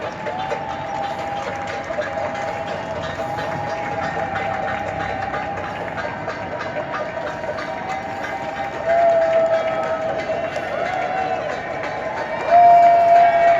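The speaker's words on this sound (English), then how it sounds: "people from both sides of the street he was walking down started cheering and banging on pots and pans to each other" A street crowd on both sides of the road cheers and bangs on pots and pans, a dense continuous roar of voices and clatter with sustained tonal whistling or horn-like notes that grow louder toward the end.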